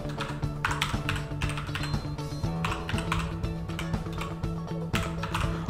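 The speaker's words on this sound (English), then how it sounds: "So we're going to type that." Rapid clattering keystrokes on a computer keyboard, close and steady, in quick irregular bursts without a break.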